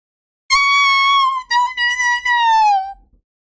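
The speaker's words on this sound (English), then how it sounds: "His scream is blood-curdling" A man's scream as guards drag him away in the Obscura game, a loud, sustained high-pitched wail that breaks briefly and trails off over about two and a half seconds, alone in silence.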